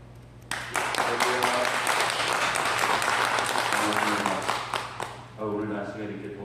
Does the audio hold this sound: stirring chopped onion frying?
no